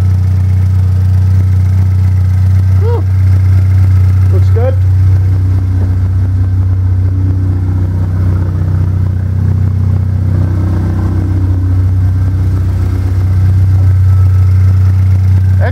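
A Pontiac Solstice engine upgraded with an EFR turbo idles steadily just after startup, a loud, constant low drone close by with a slight rise in the middle and faint voices underneath.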